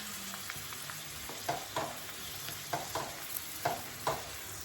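Homemade hair oil mixture bubbling in a pan on the stove, a steady close sizzle broken by a series of soft popping bursts roughly every half second to second, with no talk.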